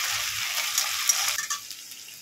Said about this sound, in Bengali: 8 চামচ আদা রসুনের পেস্ট দিয়ে দেবো। একটু ভালো করে ভেজে নেব।